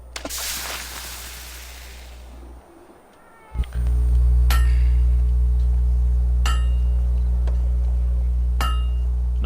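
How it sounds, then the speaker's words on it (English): Hammer blows in the video game Fable 2 ring out as four sharp metallic clinks spaced a second or two apart over a steady low hum. "You know how to use a hammer."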